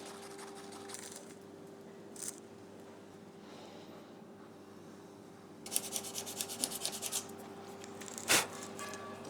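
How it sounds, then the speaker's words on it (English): Sandpaper keying a plastic surface to prepare it for epoxy, heard as faint, quiet rubbing that turns into a brief run of quick scratchy strokes, followed by a single louder scrape near the end. "I've just keyed the surface with some sandpaper, because plastic sticks terribly to epoxy"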